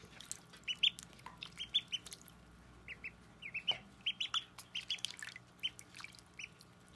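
Two ducklings swimming in water in a roasting pan give repeated high, thin peeps in quick irregular bursts, soft and close against faint background hiss.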